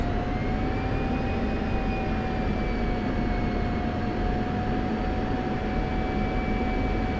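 An F-16 jet engine runs up to high power in the DCS flight simulator game, a steady, loud, dense roar with a sustained whine held evenly throughout, no talk.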